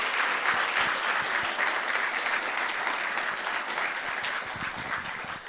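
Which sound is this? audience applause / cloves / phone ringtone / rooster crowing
audience applause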